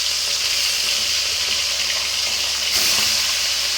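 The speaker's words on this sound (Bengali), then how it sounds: "তেল গরম হয়ে গেছে, এবং একটা একটা করে আমি মাছ ছেড়ে দেবো এর ভিতরে" Fish pieces fry in hot oil in a home kitchen, a steady, dense sizzle that holds throughout and surges slightly near the end, with no talking.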